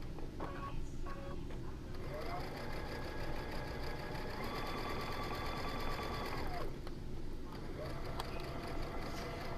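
A sewing machine runs in short bursts and longer steady runs, back-stitching the seam of a fabric roll-up organizer, with a voice talking faintly underneath.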